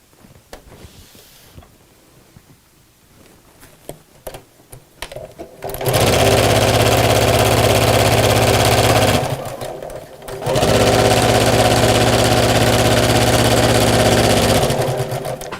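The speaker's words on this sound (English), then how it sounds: "And then we sew all the way around the edge, but again, not through the actual bag fabric" A sewing machine stitches around the edge of a fabric messenger bag in two long steady runs, loud and close, separated by a short pause, after a quiet start with faint handling noise.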